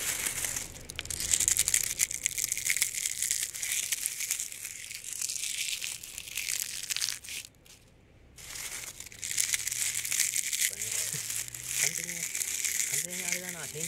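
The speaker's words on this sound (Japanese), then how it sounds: "こういう枯葉とか枯葉とかもね、いい音しますよね" Footsteps crunching through dry fallen leaves outdoors, a dense continuous crackle close to the listener with a short pause midway, and a voice talking softly near the end.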